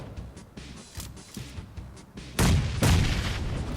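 Gunfire in the mobile battle-royale game PUBG Mobile, a rapid burst of loud, booming shots that swells sharply in the second half, close and dense, with no talk over it.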